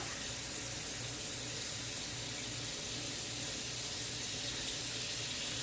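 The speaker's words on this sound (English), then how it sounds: "I'm just going to put some water on it and some vinegar." Tap water running over two boneless chicken breasts in a sink, a steady loud close gushing stream that continues unbroken throughout, with no talking.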